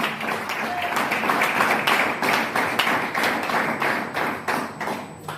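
An audience at an honorary doctorate award ceremony in Abidjan, Côte d'Ivoire claps steadily and rhythmically. The beats are close and loud and keep going throughout.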